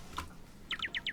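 In the Minecraft Beta 1.2 Mo' Creatures mod, a crow gives a single short chirp and then a quick run of five rapid, faint bird call notes against a quiet background.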